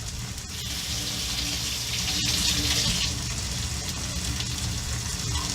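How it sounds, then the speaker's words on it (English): Seasoned pork chops with oregano sizzle steadily in a hot frying pan, a continuous bright hiss of frying fat that stays even and close throughout with no talking. "So we're gonna just let these get to a nice sizzle."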